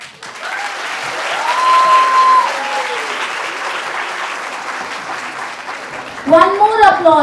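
Audience applause at a school annual day, cheering children's harvest-themed performance, a dense steady clatter of clapping that swells and holds, with tonal voices and music-like tones rising near the end.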